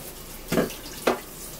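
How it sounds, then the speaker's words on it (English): Water poured from a cup onto a person's hair, two short splashing bursts about half a second apart, faint and close, with no talk. "get the cup and pour it on her head"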